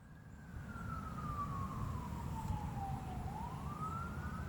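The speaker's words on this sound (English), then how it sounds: "the police sirens going off in the background" Police sirens wail from a distance, one steady tone sliding slowly down and then climbing again, faint behind a low rumble of traffic.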